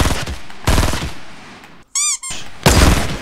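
Rapid bursts of automatic gunfire from Fortnite, loud and close, with a brief squeaky electronic tone in the middle and no talk over it.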